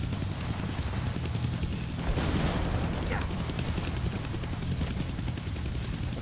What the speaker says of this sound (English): so there's a helicopter right up here.